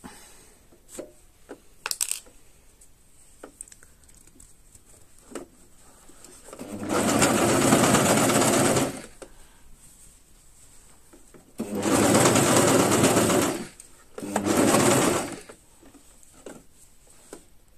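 Brother CV3550 coverstitch machine sewing jersey bias binding in three rapid, steady runs of close mechanical stitching, separated by quiet handling clicks and fabric rustle.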